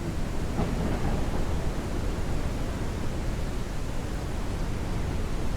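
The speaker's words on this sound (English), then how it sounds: "Sounds like the storm's still going." A thunderstorm in a video game, a steady, loud broadband roar of rain and rumble that fills the whole stretch without pause or talk.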